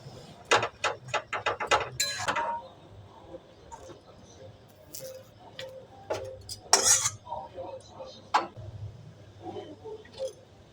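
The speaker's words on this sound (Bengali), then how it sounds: "তাই মশলাটা দিয়ে এখন ভালো করে আমি খুন্তি দিয়ে নেড়ে নেব।" Spatula scraping and clinking against a pan while Maggi noodles are stirred with spice mix and sauce, a run of quick close metallic taps followed by scattered scrapes and knocks, with low kitchen noise underneath.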